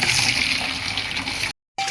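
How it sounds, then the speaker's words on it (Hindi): Cold water from a submersible pump gushes steadily from an outdoor tap, a loud, close splashing stream that runs for about a second and a half before cutting off briefly and resuming. "ये जो टोटी है ना, इसमें ना सीधा पानी आता है और वो भी मोटर का, वो भी ठंडा।"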